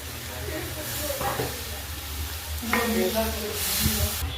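Dahi aloo gravy, a yogurt and potato curry thinned with water, simmers in a pot with a steady bubbling hiss and sizzle, broken by a few brief stirring scrapes and a faint voice-like tone near the end.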